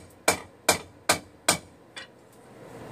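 A hammer strikes a gladius sword blade, five sharp ringing metal blows at an even, deliberate pace, the last one softer, each ring decaying quickly, close and with no talk.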